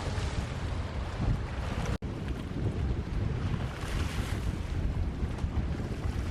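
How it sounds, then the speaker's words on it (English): Strong wind buffeting the microphone beside choppy water on Lough Derg in Ireland, a dense continuous roar with no voices, steady throughout apart from one momentary dropout. "there's a strong wind today and it's making the loch a bit more choppy"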